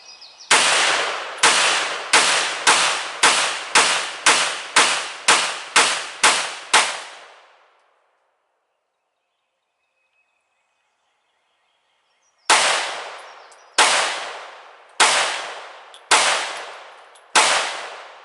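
A PMR 30 pistol fired at a shooting range: a rapid string of about a dozen loud, sharp cracks, then several seconds of silence, then five more evenly spaced shots, each with a short ringing decay and no voices.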